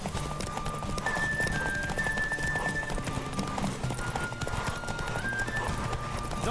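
Galloping horse hooves pound in a steady, rapid clip-clop during a race in the video game The Witcher 3, loud and continuous, with a brief whinny and game music underneath.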